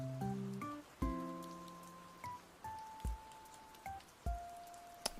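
Gentle melodic chimes of relaxing Animal Crossing music play over a steady hiss of rain, with soft tonal notes ringing out and fading every second or so, no voices.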